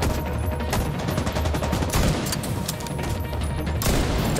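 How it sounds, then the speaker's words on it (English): Dense, loud gunfire in The Division 2, with shotgun blasts fired at long range among continuous shooting and crashing impacts. "shooting him long range with a shotgun"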